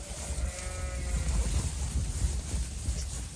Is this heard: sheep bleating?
yes